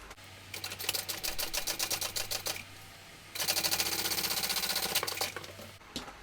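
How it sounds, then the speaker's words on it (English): A sewing machine runs in two bursts of fast, even stitching while topstitching the green side of a small fabric piece from a sewing pattern, with a brief pause between runs and no talking. "Now we can top stitch this green side."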